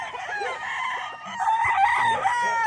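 A rooster crows on a chicken farm with white kelso birds and pullets, a loud nearby call with other fowl clucking around it.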